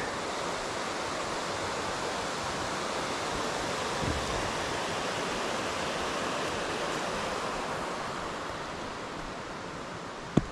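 Sergeant Brook in Vermont's Clarendon Gorge rushes below a hiking ridge, a constant broad wash of flowing water that stays even and fairly loud throughout, with a faint footstep knock near the end.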